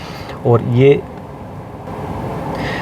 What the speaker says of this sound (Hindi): आपको अगर आवाज़ सुन रही हो तो एसी ब्लोअर की जो आवाज़ है वो यहाँ पे आ रही है।